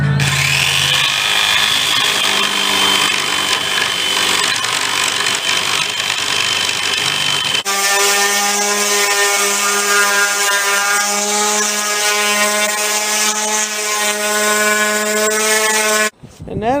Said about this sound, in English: Going to be doing some sawing and some sanding.